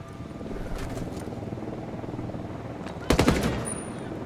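A sudden loud burst of rapid automatic gunfire erupts near the end in the Tom Clancy's Ghost Recon Wildlands video game, following a stretch of low rumbling background sound and faint talk.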